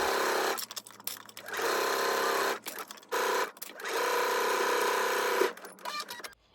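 A sewing machine runs in several loud, steady bursts with short gaps between them while stitching binding to the inside of a ruffle sleeve.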